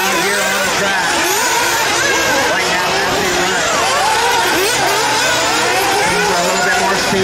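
Nitro-powered RC buggy engines whine and rev continuously on a race track during a spec-tire B Main race, a dense buzzing drone of several cars at varying distances with a commentator's voice over it.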